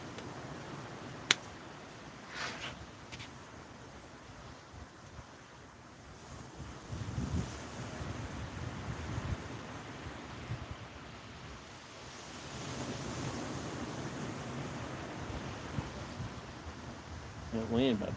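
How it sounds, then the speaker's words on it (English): Wind gusts across a microphone at a beach while waves roll in and surge louder in places, a continuous outdoor roar with a person talking under it. "That wind about to blow my hat off my light."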